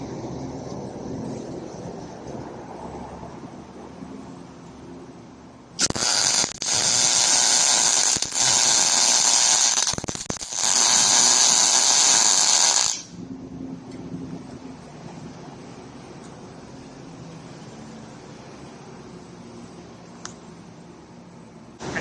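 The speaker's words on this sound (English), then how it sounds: "Welding." Arc welding on metal in a metal lab: a loud, steady crackling hiss lasts about seven seconds mid-clip, with quiet room noise before and after.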